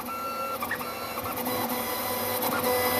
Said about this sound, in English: Okay, this printer is fast.